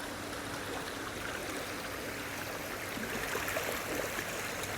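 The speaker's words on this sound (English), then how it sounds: "another bit of gradient in front with some fast water going over it" Fast river water rushes steadily over a shallow gradient, a continuous broadband wash that stays close and even throughout, with no voices.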